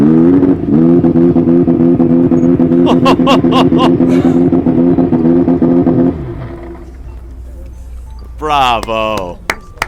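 A McLaren Honda MP4/4 Formula 1 car's turbocharged engine roars loudly with a harsh, steady buzzing tone, then drops to a choppy idle before a sharp revving burst at the end.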